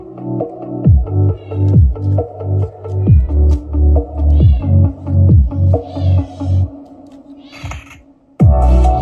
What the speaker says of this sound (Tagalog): Pagpasensya nyo lang yung pusa na kumakanta, medyo maingay kasi